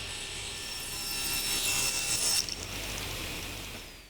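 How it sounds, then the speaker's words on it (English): A hand saw cuts a slice off a piece of plywood. The rasping strokes rise in a smooth, continuous stretch and then ease off near the end, heard close up with no voices. "we'll cut a slice off and we'll use that to mark it out"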